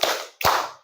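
Two crisp group hand claps from a classroom, close and loud, the second one ringing out in the room before it fades away.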